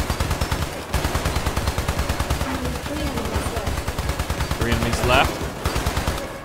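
Machine guns fire rapid, sustained bursts in a toy soldiers defense video game, a loud rattling stream with brief pauses, with someone speaking briefly over the gunfire.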